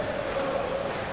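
A stadium crowd roars in PES 21 before an Argentina versus Portugal match, a broad, sustained wall of supporters' voices with a commentator speaking over it.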